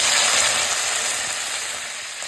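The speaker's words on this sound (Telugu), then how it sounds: "నూనె వేడెక్కిన తర్వాత కొంచెం పుదీనా, కరివేపాకు శుభ్రంగా కడిగి ఇది వేయించాలి" Mint and curry leaves hitting hot oil in a wide kadai, a loud, close burst of spitting sizzle that eases slightly as it goes on, with no voices.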